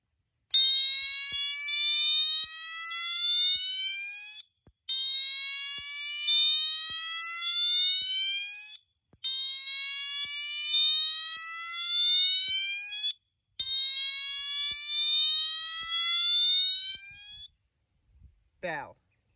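A loud slow-whoop alarm tone from a Wheelock MT 24-LSM horn-strobe sweeping slowly upward, four long rising cycles separated by brief gaps, ending with a short clatter.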